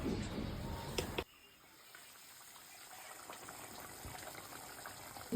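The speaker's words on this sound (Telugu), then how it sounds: "మసులుతుంది." Fish curry with tamarind water and salt heating in a pot: a loud splashing pour for the first second, then a quiet, steady low bubbling that slowly grows as the liquid comes to a boil.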